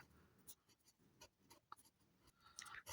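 Pen writing an answer on paper during a third-grade math lesson: short, faint scratchy strokes come in small clusters with quiet pauses between them, close up, ending in a slightly louder burst.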